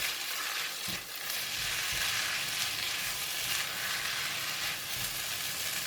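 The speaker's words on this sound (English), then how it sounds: "Just give it a couple of stir." Mee goreng noodles with tofu fry in a hot pan as they are stirred, a loud steady sizzle with soft scraping of the spatula and no talking.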